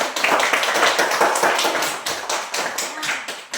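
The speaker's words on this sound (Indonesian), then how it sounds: "tepuk tangan buat Ria yang sudah membaca Quran" Children in a Bible class clap for a girl who has just finished reading scripture, a lively close burst of many small hands clapping with uneven rhythm.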